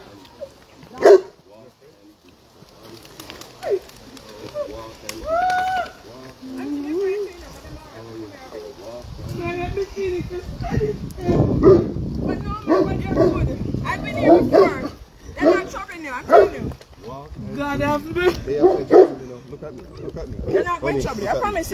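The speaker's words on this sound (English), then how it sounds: "Those dogs are big." Dogs bark and yip in short bursts over near, continuous talking and excited voices, with the barking recurring throughout.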